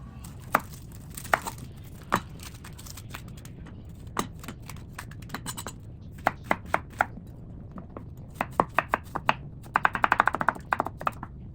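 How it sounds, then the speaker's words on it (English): Knife chopping onion on a cutting board while preparing burger steak with ground beef, a series of sharp, close taps in uneven bursts, growing faster and denser near the end, with no talking. "Ground beef, onion, chop."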